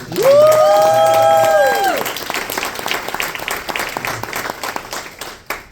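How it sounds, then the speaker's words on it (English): An audience at a live storytelling event in London breaks into sustained applause, dense clapping that carries through the whole stretch over a sustained tone at the start, with a voice speaking over it. "round of applause for Robin"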